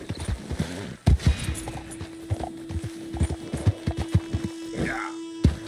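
A horse gallops in the video game Red Dead Redemption 2, its hoofbeats a rapid, steady clip-clop thudding close by beneath a constant tone and brief talk.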